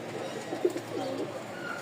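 A young feathered-foot pigeon coos softly in a couple of low rounded phrases, close by and fairly quiet, with faint background noise and no clear speech.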